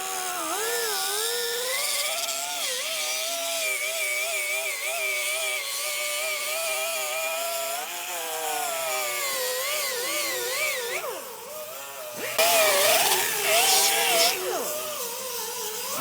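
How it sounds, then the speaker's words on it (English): An angle grinder works a weld seam on the metal of a 1968 Dodge Charger in a restoration shop: a loud, steady whine that wavers in pitch, briefly dips, then surges back harsher near the end. "you can just keep filling any pits with weld and then regrinding"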